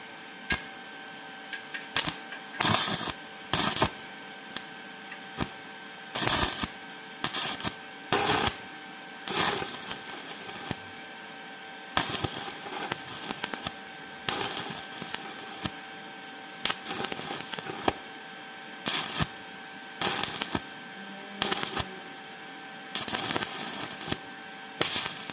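An ESAB 180i Pro welding machine running at 55 amps gives off rapid crackling bursts that start and stop irregularly over a steady electrical hum throughout.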